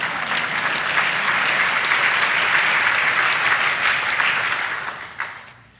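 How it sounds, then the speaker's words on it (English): Loud, dense audience applause during a speech by a former Canadian prime minister fills the room evenly, then tapers off quickly at the end. "Oh yeah, you can clap."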